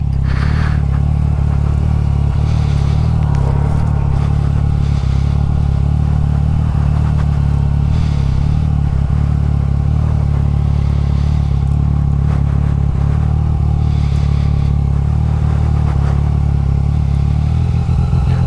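A motorcycle engine drones loud and steady for the whole stretch, with wind rush and a little clatter, during a ride through the mountains.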